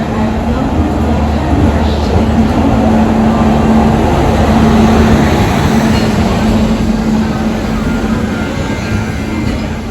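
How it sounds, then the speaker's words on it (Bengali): The Darjeeling Mail pulls into the station with a loud, steady rumble of rolling carriages and a low, continuous mechanical hum throughout. "ট্রেন আমাদের ঢুকছে দার্জিলিং মেল।"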